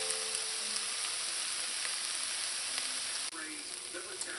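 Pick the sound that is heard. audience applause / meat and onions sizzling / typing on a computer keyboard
meat and onions sizzling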